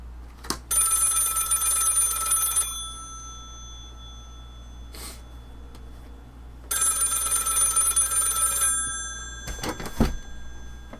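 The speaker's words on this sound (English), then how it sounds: "Stoogie, answer the phone." Electric telephone bell rings in two long bursts of about two seconds each, separated by a pause, loud and close over a low steady hum, with brief knocks and clatter between and after the rings.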